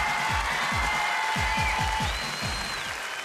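A studio audience on a variety show stage applauds a dancer's entrance with a steady wash of clapping, heavy low thumps and a sustained tone running over it.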